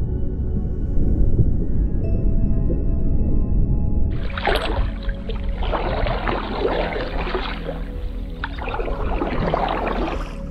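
Canoe paddling on a Finnish lake in the Saimaa wilderness begins after several seconds of low rumble, with splashing, dripping paddle strokes and trickling water close by, repeating in loose rhythm.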